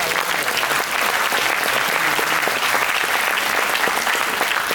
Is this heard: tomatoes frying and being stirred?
no